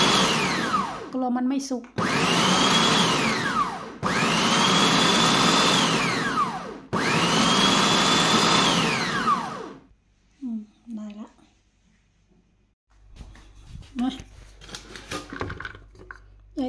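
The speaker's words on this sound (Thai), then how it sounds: "กลัวมันใหญ่ไปชิ้นใหญ่ไปมาปั่นนิดนึง" An old electric blender pulses through chunks of cake ingredients such as pumpkin and walnut in four loud bursts of a few seconds each. Short pauses fall between the bursts, and someone speaks between and after them.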